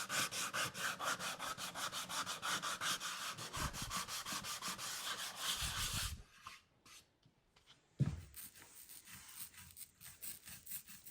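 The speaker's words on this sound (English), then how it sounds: "I'll hit it with the sanding block to make sure it's nice and flush." Sanding block rubbed back and forth over wood veneer glued with PVA, a rapid rhythmic scratching for about six seconds, then a pause with a few faint scrapes and a brief knock before quieter sanding resumes.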